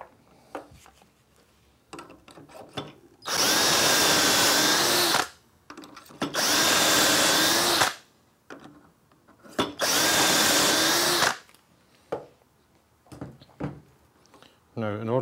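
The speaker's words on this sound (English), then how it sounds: "we're going to drill 1, 3 and 5" A power drill bores dowel holes through a Dowelmax jig in three loud, steady bursts of about two seconds each, evenly spaced. Quieter handling noises and brief clicks fill the gaps between them.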